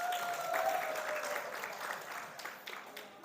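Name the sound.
audience applause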